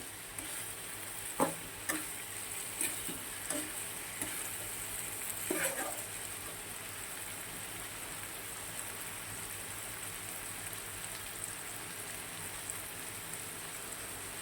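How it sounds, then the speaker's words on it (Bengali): Prawns frying with potato and onion in a pan, a steady soft sizzle throughout with a few louder crackles and stirring taps near the start, fairly quiet and without talk. "আলু আর পেঁয়াজটা খুব ভালো করে ভাজা হয়ে গেছে। চিংড়িটা দিয়ে দিয়েছি।"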